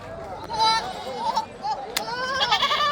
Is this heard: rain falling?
no